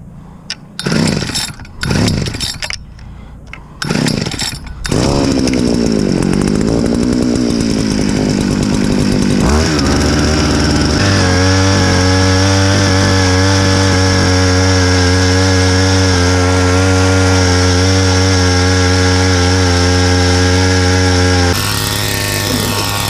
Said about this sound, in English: you're definitely going to want a power ice auger